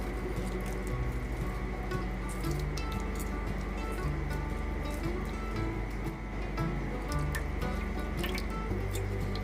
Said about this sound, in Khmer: ហើយច្របាច់ក្រូចឆ្មាចូលទៅ